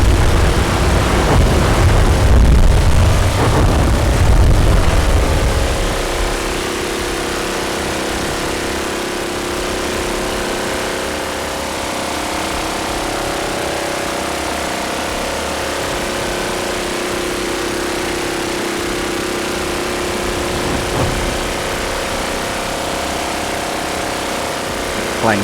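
Steady aircraft engine drone in the naval combat game From the Depths, a constant mid-pitched hum that is louder in the first few seconds and then settles into an even background tone.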